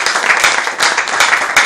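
A round of applause from the audience at a university debate on air pollution, honoring a sponsor: dense, steady clapping that stays loud and close throughout, with no one speaking over it.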